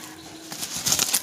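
A pigeon is released from the hand and beats its wings, a short burst of several quick flaps rising near the end, close and fairly loud.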